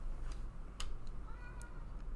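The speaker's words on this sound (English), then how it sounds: "You can hear my cat meowing in the background because catnip, that's why." A house cat high on catnip meows faintly in the background, a few short, thin calls scattered over a low, steady room hum.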